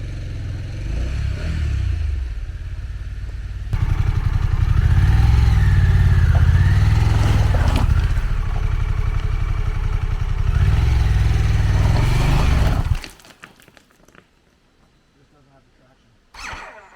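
A Harley-Davidson Pan America motorcycle's engine revs and labours in low gear while riding off road, loud and close, rising and falling in pulses before dropping away to quiet ground noise and a brief final rev.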